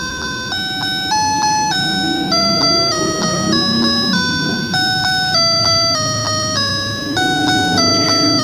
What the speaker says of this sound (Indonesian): Wow, ini ada piano dinosaurus teman-teman nih.